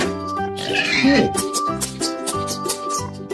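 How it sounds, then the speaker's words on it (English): A pig oinks in a short squealing grunt about a second in, set over bright, steady background music. "Pig."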